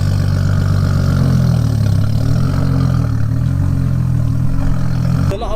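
Nissan Skyline and Toyota Supra engines idle together: a loud, close, steady low rumble with slight wavering throb throughout, ending in a brief shift near the close, with no talking.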